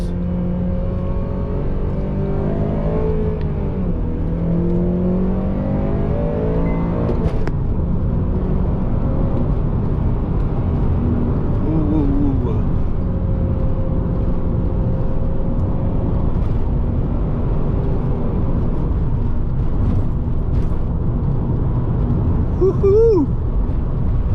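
Honda Civic Type R FN2 driven hard through corners, engine droning steadily throughout with rising and falling revs and some tire and road noise, fairly loud and continuous.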